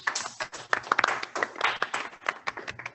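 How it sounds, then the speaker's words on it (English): Clapping during an online bilingual Toastmasters event, a small group of individual claps coming through with uneven rhythm, close and distinct, rising and falling in irregular bursts. "give our speakers a round of virtual applause."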